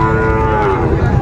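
A Sahiwal bull calf at a cattle market lets out one short, loud, close moo over a busy market background.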